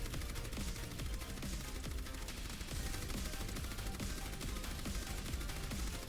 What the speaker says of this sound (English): For Orisa, her weapon spread on her primary fire, the fusion driver, has been completely removed.